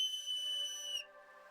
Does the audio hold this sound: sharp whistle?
yes